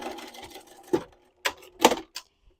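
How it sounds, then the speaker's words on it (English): A sewing machine sews a quarter-inch seam on a fabric travel case for hair tools with soft, uneven mechanical whirring. Sharper clacks punctuate it at irregular moments, and it stays fairly close and moderately loud. "you're going to sew this at a 1/4 inch seam allowance"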